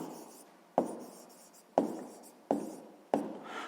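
A pen or chalk writes a math answer for a sixth-grade exercise, with four sharp taps followed by short, soft scratchy strokes, close and quiet, without talking.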